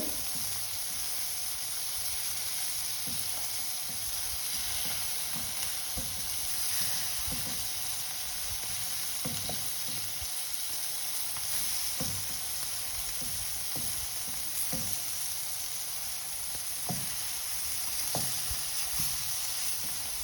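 Paneer frying in masala in a pan, a continuous close sizzle and hiss with scattered soft stirring clicks and spatula taps throughout, no talking.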